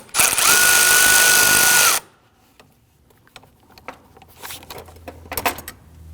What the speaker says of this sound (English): Now we're going to use a long extension and our 8mm socket.